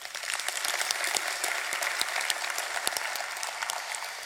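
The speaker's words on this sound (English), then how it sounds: "So I want to take a moment to give them a round of applause," Audience applause for an event crew at a conference talk: dense, steady clapping from a large crowd filling the room, sustained throughout with no voices on top.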